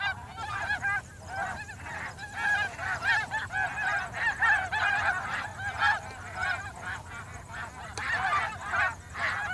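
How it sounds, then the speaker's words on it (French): A dense flock of snow geese honks continuously, many overlapping nasal calls close by and loud, with a steady clamour throughout and no voices. "On n'entend plus qu'elles."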